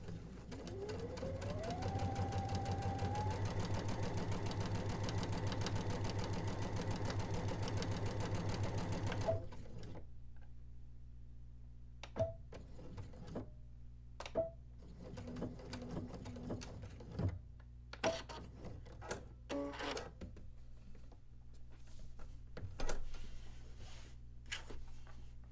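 A home sewing machine runs a straight stitch with an invisible locking stitch at the seam start, humming steadily and loudly for about nine seconds before stopping, followed by scattered light mechanical clicks and taps.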